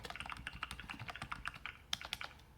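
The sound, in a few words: typing test on Redragon S107 mechanical keyboard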